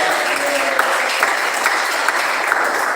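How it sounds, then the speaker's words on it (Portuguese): A church congregation applauding in steady, dense clapping that holds at a loud level throughout, with a murmur of voices beneath. "E as palmas que exaltam o Senhor"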